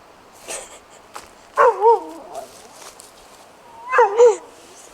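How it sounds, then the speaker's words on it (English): A dog barks in two quick double bursts spaced a couple of seconds apart, fairly close, with faint snuffling and small sounds in between and no speech. "Come here, you crazy dog."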